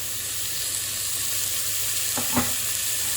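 Vegetable oil sizzling steadily in a hot pan for Ghormeh Sabzi, a continuous close hiss with a brief louder crackle near the end.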